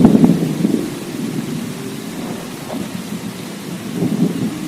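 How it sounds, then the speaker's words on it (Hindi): Heavy rain falls steadily with rolling thunder rumbling low beneath it, loudest at the start and again near the end, with no voices. "अगले दिन बहुत तेज बारिश होने के कारण मौसम बहुत ही अच्छा होता है।"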